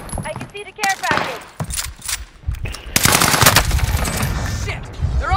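Gunfire in the video game Warzone: sharp shots and loud rapid automatic bursts, sporadic at first, then a dense continuous volley, heard alongside game noises.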